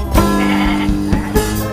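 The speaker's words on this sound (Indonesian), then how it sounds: "Wah, ada lagi teman-teman, ini ada domba. Wow, ada domba juga teman-teman." A sheep bleats in a few short, loud, close calls with brief pauses between them, with no talk over it.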